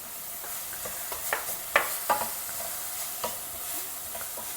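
Vegetables sautéing in a pan with salt and turmeric for upma or khara bhath, a soft steady sizzle broken by a few sharp spoon clicks and stirring knocks.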